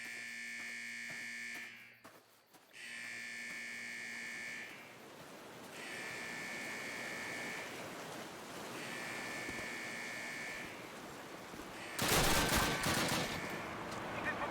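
Gunfire in Call of Duty (2003) on the Eder Dam level rattles in short bursts against repeating alarm-like electronic tones, ending in a louder, denser volley near the close.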